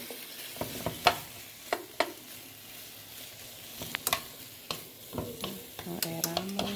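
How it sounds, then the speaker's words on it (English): Shrimp in a hot pan, with scattered stirring scrapes and soft sizzling crackle, the pops and clinks coming in irregular bursts across the whole stretch, no voices. "I'm going to go ahead and add in my smaller shrimp"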